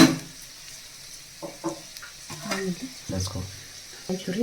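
Crushed black pepper and cumin dropped into a frying pan while making hesaru bele bath, giving a light, close sizzle with intermittent clinks and stirring scrapes; a voice is faintly heard in places.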